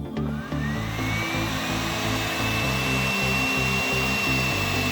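A heat gun runs steadily while shrinking heat shrink tubing onto wiring, giving a constant close blowing whir with a fan hum and a slowly rising whine throughout.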